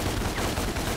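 Continuous, loud gunfire from the Devil May Cry video game, rapid shots blending into a dense volley with no pauses across the short burst.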